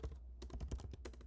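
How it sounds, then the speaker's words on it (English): An email address being typed on a computer keyboard: a short, quiet burst of rapid keystroke clicks, close and with no voices. "I'm going to type in my email here."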